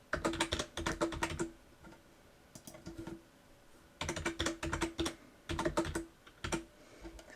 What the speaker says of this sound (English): or I can type the dates in.